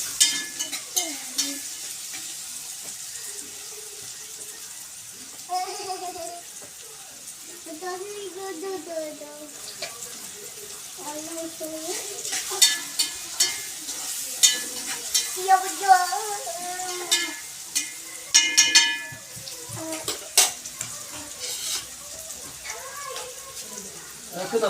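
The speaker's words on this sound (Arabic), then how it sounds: "كده البصل اصفر شويه، خدوا تشويحه" Onions turning golden sauté in a pan with a soft, steady sizzle and occasional spoon stirs and clinks, while someone talks over the cooking.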